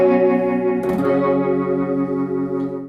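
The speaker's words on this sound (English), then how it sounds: "I can add in the rotary." Electric guitar through a Strymon Mobius pedal set to its rotary effect, a sustained chord with swirling, warbling modulation and a bright strum partway through, steady and close with no talk.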